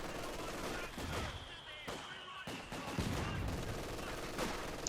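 MG42 machine gun fire in Company of Heroes 2 rattles in repeated bursts amid other battle noise, heard beneath a caster's continuous commentary.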